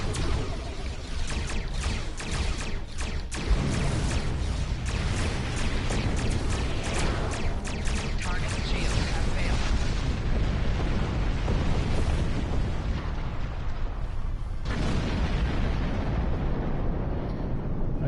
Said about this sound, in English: Why do Discovery torpedoes sound like Kelvin timeline torpedoes?